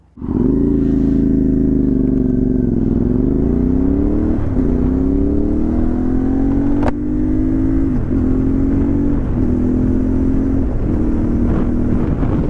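A CFMoto 450MT (IBEX 450) adventure motorcycle engine under way, a loud, steady droning note that climbs with the revs, broken by several brief dips at gear changes, with wind rushing past throughout.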